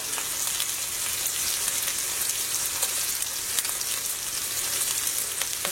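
Curry leaves and two dried red chillies sizzle and crackle in hot oil with sliced shallots, a continuous close frying hiss with scattered small pops, no voices.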